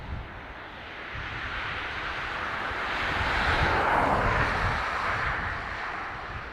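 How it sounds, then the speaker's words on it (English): An Airbus A330 jet on approach to Dublin Airport's north runway gives a steady, distant broadband roar that swells to a peak midway and then eases slightly, with light wind noise and no talking. "This A330 coming from Seattle."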